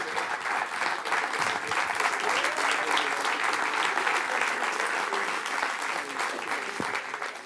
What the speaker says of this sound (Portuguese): Mais uma salva de palmas para o Newton.